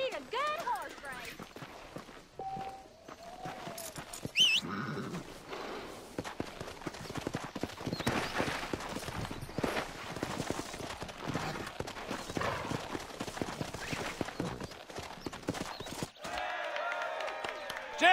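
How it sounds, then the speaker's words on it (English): Horses gallop in a race in Red Dead Redemption with steady, rapid hoofbeats under a crowd's noise, with a voice talking over much of it and a brief whinny. "You can't beat a good horse race."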